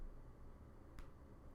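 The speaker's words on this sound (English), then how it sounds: "So that's my clap" A single sharp hand clap, struck to sync audio, cracks once midway through an otherwise faint, quiet background.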